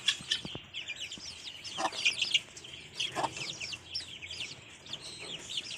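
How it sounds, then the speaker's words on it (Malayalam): Native hens with their hatched chicks in a netted enclosure cluck steadily and close by, with repeated sharp peeps and chirps from the chicks scattered through, and no voices. "അട വെച്ചിറക്കിയ കോഴികളാണ്. തള്ളേ കുഞ്ഞുങ്ങളുമാണ്."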